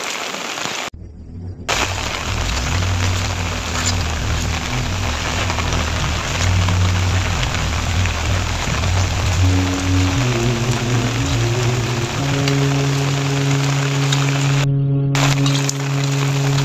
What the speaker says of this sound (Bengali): প্রচণ্ড বৃষ্টি হচ্ছে, বৃষ্টির কারণে বাসা থেকে বের হওয়া যাচ্ছে না